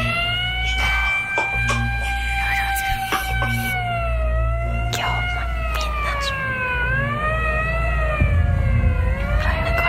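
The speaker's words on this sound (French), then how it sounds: "Les sirènes hurlent à l'entrée du parc." Wailing emergency sirens rise and fall steadily near a park entrance, loud and continuous over a low rumbling background, with no voices.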